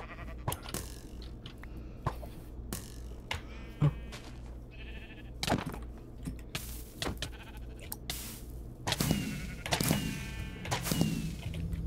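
Sheep bleating in a Minecraft-style multiplayer survival game, several short nasal bleats scattered over a steady game-ambience background, with a denser cluster of calls near the end and no speech.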